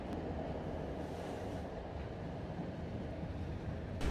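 A steady low rumble of the small, 110-year-old Saltsjöbanan train running in Sweden, with continuous rolling noise and a faint wind-like hiss, fairly close and even throughout.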